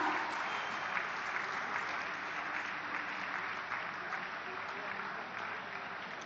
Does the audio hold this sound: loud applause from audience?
yes